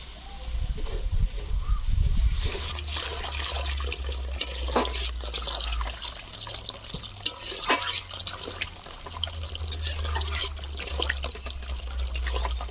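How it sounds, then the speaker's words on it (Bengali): Water is poured into a pot of fried dal with the head of a three-kilogram katla fish, a continuous splashing gush with some dribbling, close and steady throughout. "বন্ধুরা আমার ডাল আর মাছের মাথা কষা হয়ে গিয়েছে এটা আমি জল ঢেলে দেবো"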